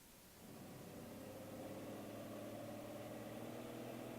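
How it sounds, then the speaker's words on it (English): Steady, faint hum of an old car engine as the car follows another vehicle, a continuous low drone with road noise that swells slightly after the first half second and then holds even. "Russ and Greg are in Russ's old car following Dexter King"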